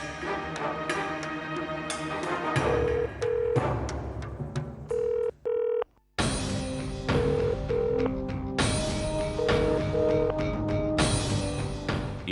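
Telephone keypad tones beep in short, evenly spaced bursts during a TV serial scene, set against a loud, sustained musical score that drops out briefly near the middle.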